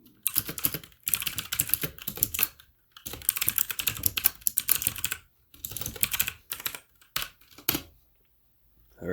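Typing C code on a computer keyboard: rapid close clicking keystrokes in bursts, separated by short silent pauses.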